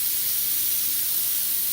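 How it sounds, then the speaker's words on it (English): A spray gun sprays water in a steady, even hiss with no sputtering, close and continuous throughout. "It's spraying. There's no spit, no sputter."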